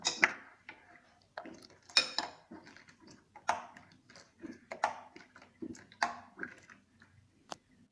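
A spoon stirs buttermilk with asafoetida powder in a vessel, producing irregular close clinks, taps and scrapes against the container, some sharper than others.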